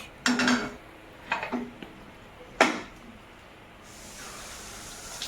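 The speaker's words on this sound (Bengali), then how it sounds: "এই দেখো আলুটা ঢেলে নিচ্ছি আলুটা সেদ্ধ করা কমপ্লিট" Boiled potatoes are tipped into a cooking pot, making a few separate clattering, sliding bursts with metallic clinks and quiet pauses between them, close up and with no talk.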